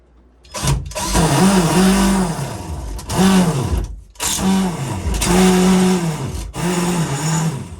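Loud, close power-drill bursts whine up and down in pitch, with several runs separated by short pauses, while screws are driven into drywall for a composting toilet bench in an off-grid build.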